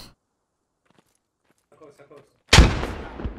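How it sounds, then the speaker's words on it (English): A frag grenade explodes in a first-person shooter, a single loud close blast with a trailing rumble after a short stretch of faint, quiet sounds. "Frag grenade out."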